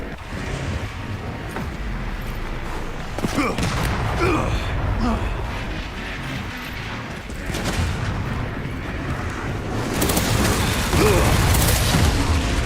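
Cannon fire in Resident Evil 9, heavy booms and blasts over a dense, roaring battle din that swells louder near the end, with a player talking over it.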